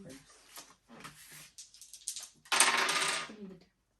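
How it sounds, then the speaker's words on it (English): Dice rolled by players in a card duel game, a few short clicking rattles early on, then a louder burst of clattering as the dice tumble to a stop, close and fairly loud. "Both players roll the dice, and the lowest roll wins."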